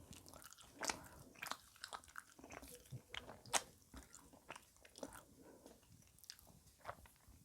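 Close, crunchy bites and wet chewing while eating a US military MRE combat ration, irregular mouth sounds with sharper crunches scattered throughout, no talking.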